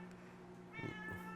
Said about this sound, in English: all it's gonna do is start meowing at me